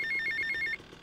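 A telephone in the GTA Vice City video game rings in a quick series of bright electronic trills lasting under a second, then cuts off abruptly.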